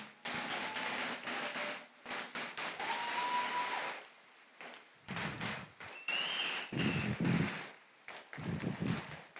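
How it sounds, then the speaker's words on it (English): An audience claps at a trainers' showdown session in uneven bursts with short pauses between them. A whistle and some shouts rise over the clapping partway through. "Oh, you want to just keep clapping for a sec,"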